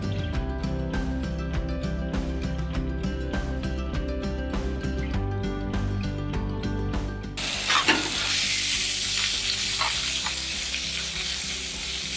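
Shrimp for a low country boil sizzle and char on a griddle, a loud steady frying hiss that flares brighter partway through, with metallic scraping and clicking from a spatula mixed in.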